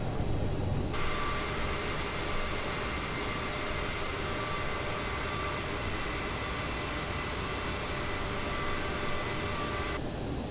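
An Aerosoft CRJ 700 regional jet in a flight simulator rolls down the runway after landing at a small Erie, Pennsylvania airport. The result is a constant broadband engine roar with a high whine layered on top, steady and loud throughout.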